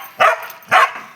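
A dog gives two short, loud barks about half a second apart, close by, with a quiet pause after each and no talking.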